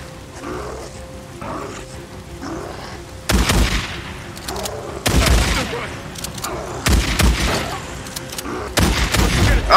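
Gunfire bursts in the video game Days Gone, loud rapid volleys in several clusters with booming impacts, under quieter game sounds and a player's voice in between.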